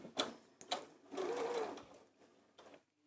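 A sewing machine stitches a seam with a 5/8-inch allowance, a steady mechanical whir of about a second in the middle. Short knocks come before it and quieter handling noise after, with no talk.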